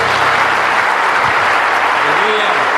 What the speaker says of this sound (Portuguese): A salva de palmas ao nosso Deus.